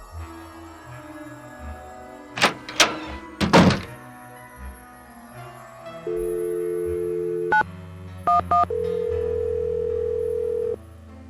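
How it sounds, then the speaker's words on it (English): Telephone in a ticket booth in a Nancy Drew video game: a few loud thunks as the receiver is lifted, then a steady dial tone, a short run of dialing beeps and a longer ringing tone, all without talk. "Go ahead and use the phone in the ticket booth."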